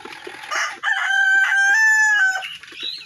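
A rooster crows once, close and loud, in a long drawn-out call among Sonali chickens, with softer clucking from the hens just before and after.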